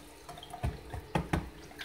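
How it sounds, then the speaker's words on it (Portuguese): Hands are rinsed under running tap water in a kitchen while cooking, a soft steady trickle with several louder splashes and thumps as the hands move through the stream, no talking. "Vou passar uma água na mão aqui"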